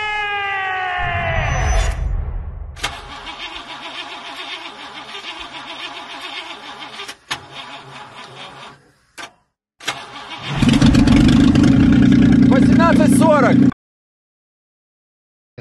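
A vehicle engine in War Thunder cranks and catches, then rumbles at a mid-pitched idle before revving up loudly and cutting off abruptly, with brief gaps and clicks in between.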